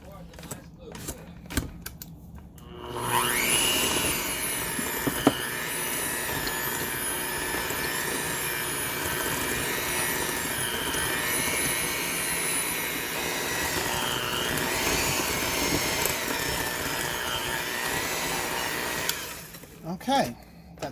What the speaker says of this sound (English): let me get my trusty mixer